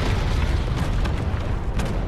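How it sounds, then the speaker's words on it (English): Airstrike blasts in the mobile shooter Tom Clancy's Elite Squad, a dense, continuous low rumble of explosions and booms that stays loud throughout without letting up. "Airstrike."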